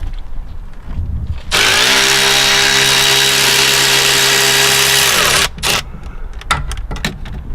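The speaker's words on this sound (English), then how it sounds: "then I can use the electrical ratchet to remove it all the way" An electric ratchet runs steadily for several seconds, loud and close, as it backs a bolt out on a 2001 Audi A6 during a CV joint replacement, followed by a few short clicks and knocks from the work.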